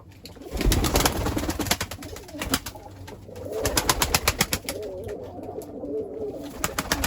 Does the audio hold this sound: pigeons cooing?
yes